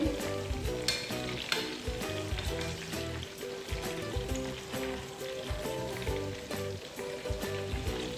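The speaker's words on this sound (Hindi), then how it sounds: "हमने इसको हल्की आंच पे पकाना है ताकि हमारा चिकन अंदर तक बिल्कुल गल जाए।" Chicken cooks on low heat in a covered pan, giving a steady, soft sizzle and crackle with faint popping that carries on evenly throughout.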